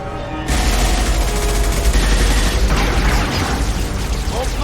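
Gunfire in the video game Mass Effect 2, a dense, loud burst of rapid shots and booming impacts that starts abruptly and keeps rattling without pause, with no voices over the barrage.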